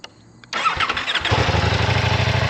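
A 2024 Ducati Diavel V4 motorcycle cranks briefly, then its engine fires and settles into a loud, throbbing idle close by, with no one speaking.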